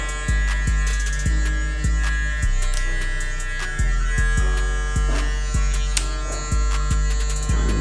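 Electric hair clippers buzzing steadily up close during a haircut, a loud constant hum broken by repeated short clicks and tonal shifts as the blades pass through hair.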